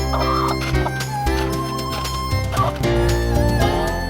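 Chickens clucking inside a cage they share with a kite, several birds calling in overlapping, close clucks and drawn-out squawks over a steady low background hum.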